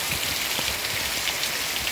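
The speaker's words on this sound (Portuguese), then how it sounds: "Muita chuva, galera, ó, muita chuva, hein, pessoal?" Heavy rain pouring steadily in the Matriz district of São Gonçalo, a dense, continuous hiss of water hitting surfaces with no break across the short stretch.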